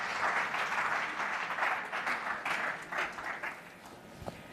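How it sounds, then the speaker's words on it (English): Audience applause at an evening awards event, a fairly soft wash of clapping that swells and then thins toward the end, with a faint knock near the close. "Can we have a loud round of applause"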